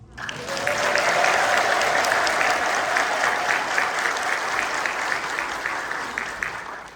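A church congregation at a Saint Michael feast-day gathering of a San Jose Ethiopian Orthodox parish breaks into applause, swelling quickly into sustained, dense clapping from many hands that slowly eases toward the end.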